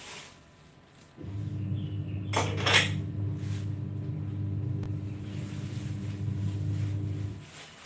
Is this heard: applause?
no